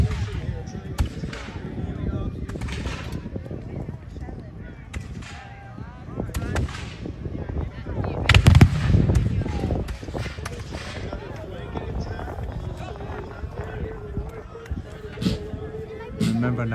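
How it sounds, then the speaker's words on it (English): Heavy booming reports of cannon fire roll through steadily at a Battle of Breed's Hill reenactment on a hot day, with one louder blast near the middle, under a constant wash of outdoor noise and distant voices. "the fire is hot and heavy from some cannons on both sides"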